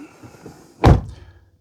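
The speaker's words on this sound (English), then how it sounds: "I'll shut the door because it's raining" A single solid thunk as the driver's door of a 2016 Range Rover Evoque is pulled shut in the rain, close and brief, preceded by faint rustling and followed by a short muffled decay.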